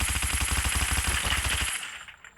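Rapid automatic gunfire in Call of Duty Mobile during a Search and Destroy match, a fast steady burst of loud shots lasting nearly two seconds before cutting off into a quiet tail.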